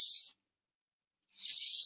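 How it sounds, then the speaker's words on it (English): Two short bursts of spray from a can of Redken Wax Blast hair product, with a clear gap between the hissy blasts. "So now I just want to spray a little bit of the wax blast"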